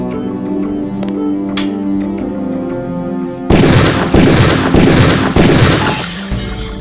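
Gunshots fired at training targets in the video game Deus Ex, a run of loud, sharp reports packed close together in the second half after a quieter stretch of tonal game ambience.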